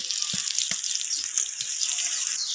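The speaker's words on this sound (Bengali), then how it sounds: "তো এই তো দেখেন এখন নাড়াচাড়া দিয়ে দিব।" Fish roe curry sizzling and frying in a pan while being stirred, a steady bright hiss with a few soft low knocks of the spoon, close and fairly loud, no talk.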